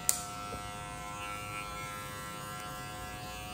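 An electric hair clipper with a number 2 guard buzzes steadily while fading coily hair, a close, even motor drone with a brief click at the start and no talking.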